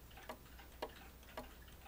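A repaired 30-hour Ogee clock movement ticks steadily at close range, with four evenly spaced sharp ticks sounding alone over a quiet room background.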